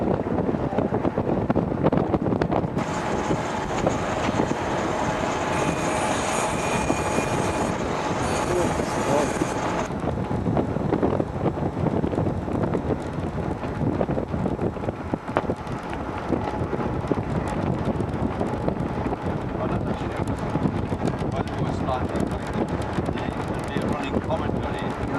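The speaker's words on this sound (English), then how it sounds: "it's a bit windy" Steady, heavy wind buffeting the microphone on the top deck of a cruise ship, a continuous roaring rush with no breaks, briefly joined by a faint high tone early on.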